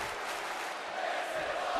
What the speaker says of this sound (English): But you hear the crowd here in Scotia Bank.